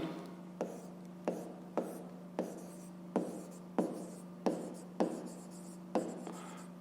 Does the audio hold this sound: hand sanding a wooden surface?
no